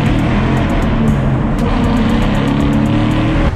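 A Ford Mustang 2.3 with an Akrapovic exhaust drives through a tunnel, a loud, steady, droning engine and exhaust roar that echoes throughout and stays close.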